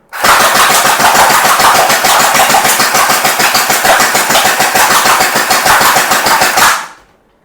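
A SCAR-L automatic electric gel blaster fires on auto in one long, close, loud burst of rapid, evenly spaced shots lasting about six and a half seconds before cutting off abruptly.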